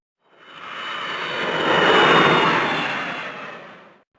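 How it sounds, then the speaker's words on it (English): An airplane lands in the Mr. and Mrs. Potato Head Go On Vacation PC game. A single jet roar swells to a loud peak and then fades away, with no other sound around it. "The plane Mr. Potato Head and Mrs. Potato Head are on has landed in the United Kingdom"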